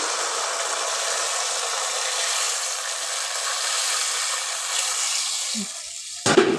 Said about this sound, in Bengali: এবার আমি এতে জল দিয়ে দিচ্ছি